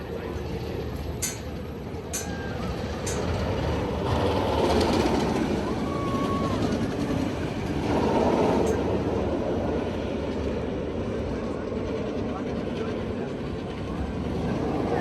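A roller coaster train at Six Flags Great Adventure rumbles along its track nearby, a steady continuous roar with some clicks and squeals, rising and falling slightly.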